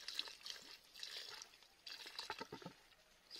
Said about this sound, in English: So I'm watering this